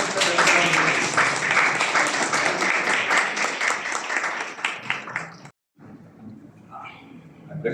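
An audience claps at an endowment oration award ceremony honouring a professor, with dense applause filling the first few seconds before fading into speech after a brief pause.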